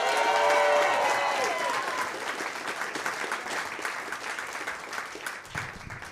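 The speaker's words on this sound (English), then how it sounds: "make a lot of noise for your next comedian" Comedy club crowd applauding and cheering as the next comedian is brought on, a dense wash of clapping with whoops, loud at first and easing slightly over six seconds.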